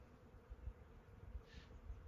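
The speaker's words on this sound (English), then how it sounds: "Oh yeah, those bees, they're going hard." Bees buzz steadily while pollinating a peach orchard, a soft continuous drone with small swells as insects pass nearby.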